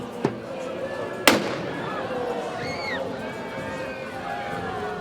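A cannon fired by a guard at the Kerkrade carnival parade in the Netherlands sends out one sharp, loud boom after a fainter pop, echoing over a murmuring outdoor crowd.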